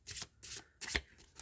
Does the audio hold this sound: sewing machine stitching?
no